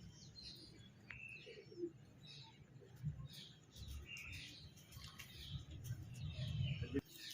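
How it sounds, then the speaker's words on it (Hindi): Pigeons of a prized fancy breed coo softly at a loft in Kasur, low murmurs mixed with scattered chirps from other birds and steady background noise. "ये कबूतर आए हैं जी"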